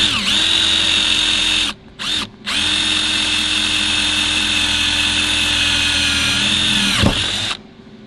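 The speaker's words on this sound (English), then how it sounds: "next I'm going to use my tap drill, which is a number 7, and get that center" Power drill boring a hole with a number 7 tap drill in basic machining work, a loud steady whine that cuts out twice in quick succession, then runs continuously before spinning down near the end.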